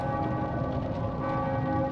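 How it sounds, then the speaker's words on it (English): Alarm bells ring out in The Witcher 2: Assassins of Kings, a dense, steady clangour of overlapping metallic tones that fills the whole clip at a moderate level with no speech over it. "Alarm bells have gone off."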